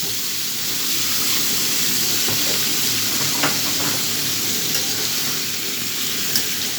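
Cucumber and spices sizzling in a pan for prawn curry, a steady close frying hiss with occasional faint stirring clicks throughout, no voices.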